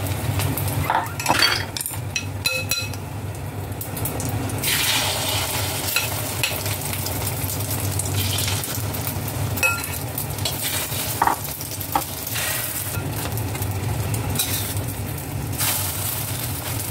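Alamang shrimp fry in hot oil in a pan, a continuous crackling sizzle punctuated by clinks and scrapes of a utensil stirring against the pan, close and fairly loud throughout.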